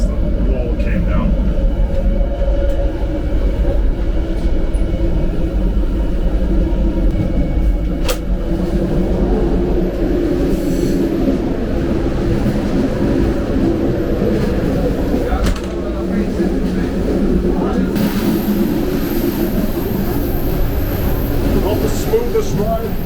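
Loud, bumpy train ride in the Balkans on older rolling stock, a constant heavy low rumble and rattle that fills the whole stretch, with a few clanks and a voice talking over the din.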